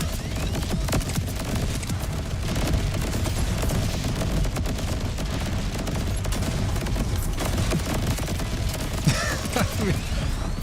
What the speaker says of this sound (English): It's just constant explosions though